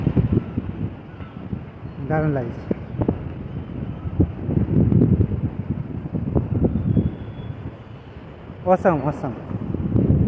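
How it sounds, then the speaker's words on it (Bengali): Strong gusty wind roars steadily against the microphone on a swaying suspension bridge (the Jhinu jhula bridge) on an Annapurna trek as rain approaches; the blustery rush runs throughout, largely beneath people talking excitedly. "প্রচুর হাওয়া দিচ্ছে,"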